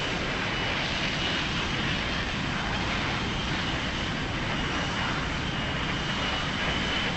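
Steady, broadband roar of an F-15C jet engine in the DCS flight simulator as the throttle eases back after refueling, a constant loud rush with no clear change in pitch.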